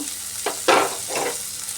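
Small shrimp frying lightly in a pan give a steady soft sizzle, broken by a few brief scraping stirs, close and clear with no talking.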